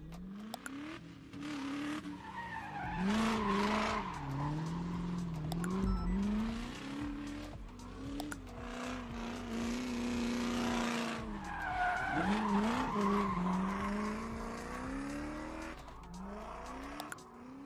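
Car in a video game driving and skidding, with a revving engine tone rising and falling and long tire squeals, fairly quiet and continuous.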